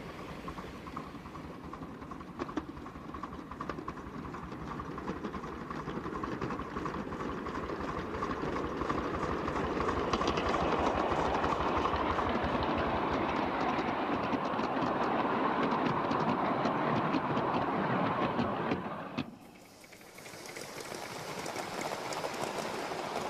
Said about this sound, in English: it is more than usually exciting to drive a train at night